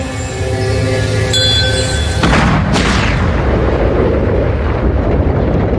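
An antimatter apple explodes as a dramatic effect, with a tonal hum cut off by a sudden loud boom that gives way to a sustained, roaring rumble.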